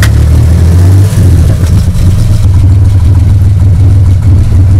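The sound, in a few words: Chevrolet Opala six-cylinder engine revving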